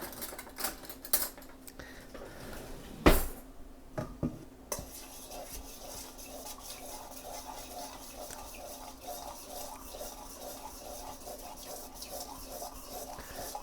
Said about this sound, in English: And now I'm just going to stir it up